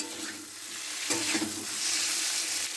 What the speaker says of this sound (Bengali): এরকম করে আলু দিয়ে সব কষে নেব।